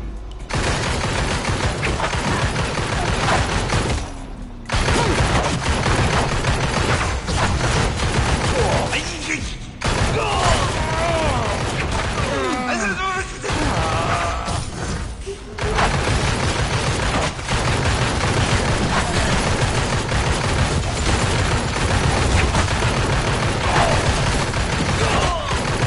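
Loud, dense video game gunfire and dynamite explosions from the Midnight Poppy game, rapid volleys and bursts running almost continuously with brief lulls, under occasional voice.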